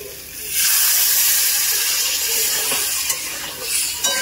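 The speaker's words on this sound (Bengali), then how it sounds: "একটু সামান্য জল দেব।" A little water splashed into spiced potato curry (aloo dum) frying in a pan, setting off a loud, sudden hissing sizzle of steam that holds strongly, then settles into softer bubbling crackle.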